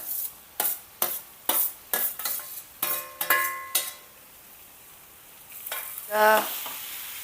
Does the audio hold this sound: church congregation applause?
no